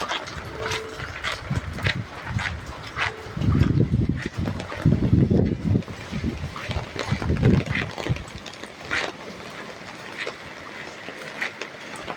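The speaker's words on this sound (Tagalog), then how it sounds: "Lakas-lakas na yung hangin." Strong wind buffets the microphone in rough, rumbling gusts, swelling loudest in the middle before easing off.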